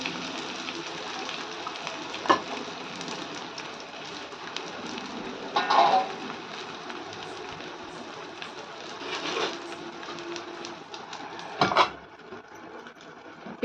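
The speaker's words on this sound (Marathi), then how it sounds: "थोडं थोडं तेल त्या होलमध्ये सोडून व्यवस्थित परतून घ्यायचं" Thalipeeth frying in a pan with a little oil dribbled into its holes, giving a steady soft crackling sizzle with a few louder pops and spatters, close by and with no talking.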